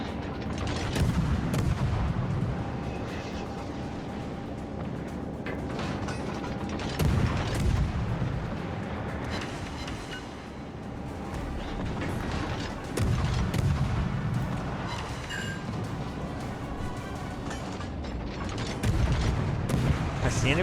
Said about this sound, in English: Shooting these cannons is a lot of fun.